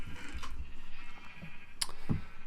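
Sheep bleating inside the Minecraft video game on a sheep farm, a couple of short synthetic bleats over a low background hum with a few faint clicks.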